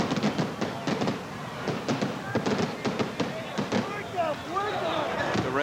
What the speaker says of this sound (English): there go the Caesar's Palace fireworks in the background